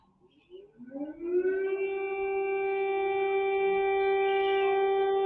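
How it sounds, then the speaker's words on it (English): An air raid siren in Ukraine during the Russian invasion winds up from low to a steady, loud wailing tone that holds, heard from a distance with no voices. "The sirens are going off"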